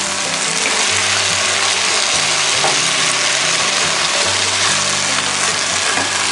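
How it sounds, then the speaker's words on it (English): Marinated wild turkey in mojo marinade sizzling with onions in a Dutch oven: a loud, constant close-up frying hiss with crackle and a low rumbling undertone, with no talking. "now we're just gonna go ahead and dump in our turkey"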